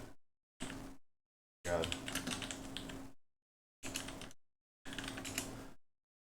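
Bursts of rapid computer keyboard typing, several short clattering runs separated by silent gaps, close and fairly loud, with a brief spoken exclamation.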